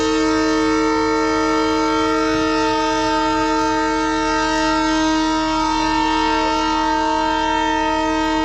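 Darjeeling toy train about to depart at Batasia Loop, giving a long, loud, steady horn or whistle blast that holds its tones unbroken for the whole stretch.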